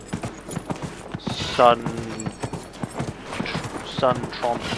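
Horse hooves clip-clopping in the video game Dragon Age: Inquisition, a steady run of hoof knocks from a stallion, with someone talking over them throughout.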